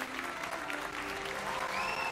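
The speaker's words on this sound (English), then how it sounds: "See, all my classmates cheering for me." Classmates cheer and applaud in the video game Hogwarts Legacy, a steady wash of crowd clapping with a faint rising musical tone near the end.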